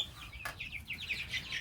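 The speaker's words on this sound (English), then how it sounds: "That's a turkey." Turkeys kept in a pen after being bought at auction, giving a steady run of short chirping, clucking calls at close range over a low rumbling background.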